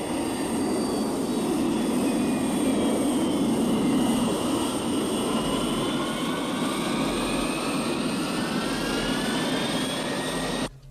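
An aircraft in flight from the Joe 90 series gives a continuous, fairly loud jet roar with sweeping high whines that rise and fall, steady from start to finish with no talk.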